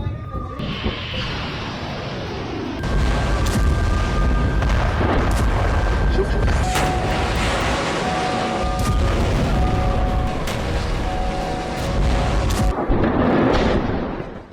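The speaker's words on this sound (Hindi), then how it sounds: "धमाकों की आवाज से पूरा कफर शुबा शहर थर्रा उठा" Heavy artillery shelling pounds Kafr Shuba in southern Lebanon, fired by IDF artillery units: dense rumbling booms and blasts rolling continuously for several seconds at loud, steady level, with no clear voice over it.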